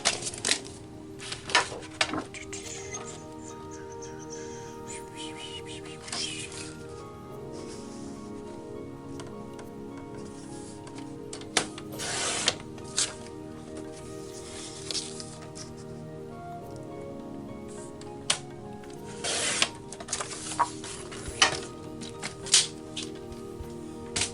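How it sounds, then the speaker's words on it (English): Scissors or a blade cutting a piece of material to 10 inches while making tamale-themed crafts, with sharp rustling snips and scattered taps across a steady background, no voices. "I need to cut this to 10 inches"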